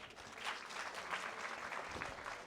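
An audience at a magic show during a literature festival gives a round of applause, a soft, continuous patter of many hands heard from some distance and fairly faint throughout.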